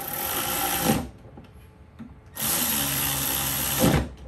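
A power tool whirs loudly for about a second, stops briefly, then runs again in a second longer burst, close by, while building a Milwaukee Packout rolling toolbox.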